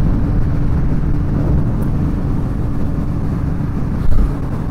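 Suzuki GSX-S750 motorcycle engine running steadily with a continuous low rumble and wind buffeting, a brief surge near the end, no talking.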